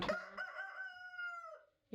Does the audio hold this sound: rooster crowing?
yes